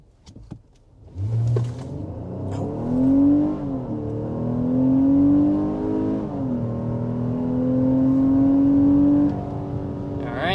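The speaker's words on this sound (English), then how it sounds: "let's go ahead and get a hard acceleration in this Nissan Pathfinder" A 2023 Nissan Pathfinder Platinum V6 engine revs hard under full acceleration, its pitch climbing steadily through the gears, loud and close, with no talking.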